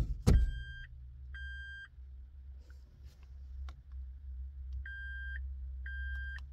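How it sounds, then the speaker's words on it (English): A Toyota sounds two long beeps during a semi-automatic robot transmission calibration, each a steady electronic tone followed by further paired beeps, heard close over a low engine hum with a few faint clicks. "Two long beeps."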